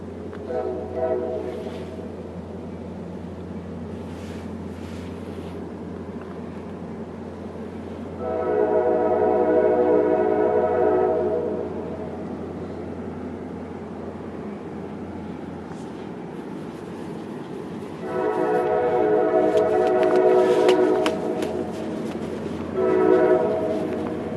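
A CSX ethanol freight train rolls past with a steady rumble of wagons, its horn blaring loud in two long harmonic blasts with a shorter toot at the end; a voice briefly speaks over the passing cars.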